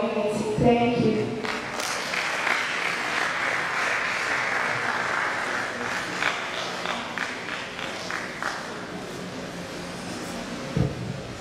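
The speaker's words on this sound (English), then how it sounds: "Round of applause, please." An audience at a school climate-change presentation event claps in a sustained burst of dense applause that gradually thins out, with a sharp knock near the end.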